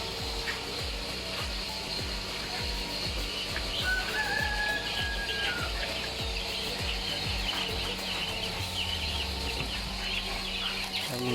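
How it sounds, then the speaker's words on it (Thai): Two-to-three-week-old farm-hatched Muscovy ducklings give faint, thin peeping calls over a steady outdoor farm background of clucking fowl at dusk. "เป็นลูกเป็ดบาบารี่นะครับผมที่ เขาฟักเองนะครับ"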